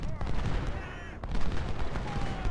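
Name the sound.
artillery fire in Ultimate General: Civil War video game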